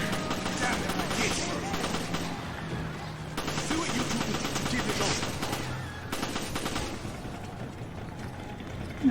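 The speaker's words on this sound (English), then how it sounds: "if I shoot a flashbang right over here, it will flash Ignis" Gunfire and a flashbang sound in co-op play of the Resident Evil 5 video game, with rapid bursts of shots over a dense, continuous wash of game noise that stays loud throughout.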